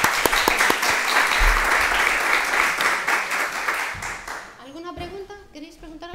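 A seated audience at an architectural photogrammetry conference gives loud, dense applause after a talk for about four and a half seconds. The clapping then fades and a voice begins speaking.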